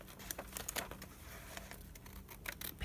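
Scissors snip through recycled paper along a pattern for a budget journal, quiet close rapid crisp cuts with faint paper rustling.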